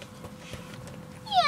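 A child imitates a cat with a short rising meow at the end, a voice mimicking the animal, close and fairly loud after a stretch of quiet room sound.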